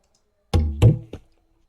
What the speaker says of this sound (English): here is a tabla sound, which is pretty unusual in a mid-tempo song